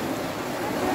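Ocean surf at Hellshire Beach, Jamaica, a steady broadband wash of waves mixed with wind noise on the microphone, loud and close for about a second.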